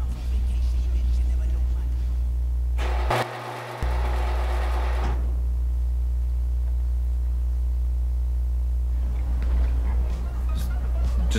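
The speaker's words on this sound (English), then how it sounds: "Have you guys listened to the exhaust on this car?" A car exhaust and engine drone steadily in GTA 5 Online, a loud, constant low rumble with a brief swell of added noise and a short dip partway through.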